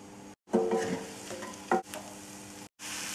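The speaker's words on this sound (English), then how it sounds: "Stir well and fry the onions for a good couple of minutes" Chopped onions and green chilies fry over a high flame while a spoon stirs them, giving a close, steady sizzle broken by scraping strokes and two short pauses.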